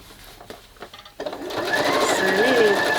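A sewing machine stitching fabric starts up after a few soft handling clicks and then runs in a steady, loud whirring hum, close by, with a person talking over it.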